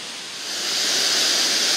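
A waterfall sends up a steady broadband rush of falling water that swells over the first second and then holds, loud and close, with no voices.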